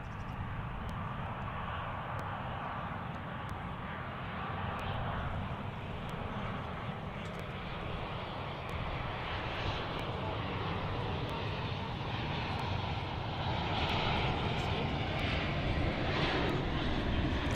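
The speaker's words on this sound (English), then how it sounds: "There's United flight in from San Francisco on an Airbus" A United Airlines Airbus A320 jet airliner arriving from San Francisco at DFW International Airport, a steady, continuous engine roar that swells slightly toward the end, heard at a distance with no one speaking.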